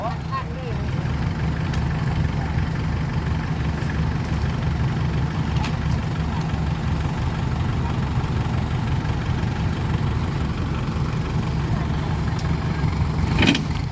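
A tractor engine runs at a steady low throttle nearby, a constant rumble with a few faint clicks over it.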